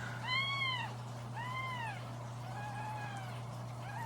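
A neonatal kitten cries out repeatedly while being tube fed, four thin rising-and-falling mews close by over a constant low electrical hum.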